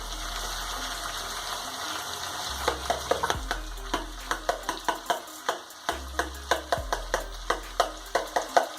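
Onion frying in a pan gives a steady sizzle while a utensil scrapes and clacks against it in a quick regular rhythm, close up, with a low hum underneath and no talking.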